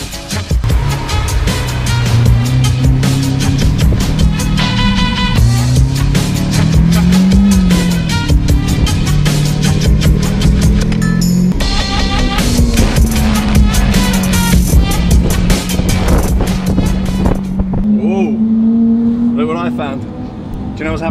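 A Lamborghini engine revs and shifts while driving, rising and falling through several gear changes, loud and close, with a person talking over it.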